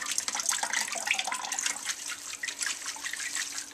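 Fresh water pours steadily into a pot of mashed, rendered beef fat, a continuous close splashing and trickling with no talk.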